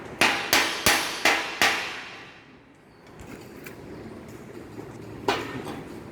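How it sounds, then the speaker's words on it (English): A chipping hammer strikes a welded joint five times in a quick, steady rhythm to knock off slag, each hit sharp and ringing. Quieter scraping and handling noise follows, then one more knock near the end. "By using this hammer, we can remove the slag formed over the welded area."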